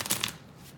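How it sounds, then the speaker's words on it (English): Tarot cards are shuffled close by, giving two quick soft riffling bursts followed by a faint papery trailing rustle, brief and quiet. "I am shuffling right now."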